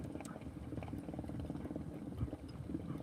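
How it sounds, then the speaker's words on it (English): A boat engine idling with its exhaust in the back of the hull, a faint low rhythmic gurgling and bubbling that repeats steadily at a distance. "You can hear his engine running. Gurgle, gurgle, gurgle."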